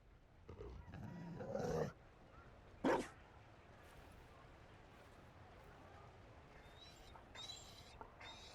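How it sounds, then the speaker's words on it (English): A Mabari dog in the video game Dragon Age Inquisition gives a few short barks and a yip early on, then goes quiet apart from faint whimpering, over a low ambient background. "You... found a dog?"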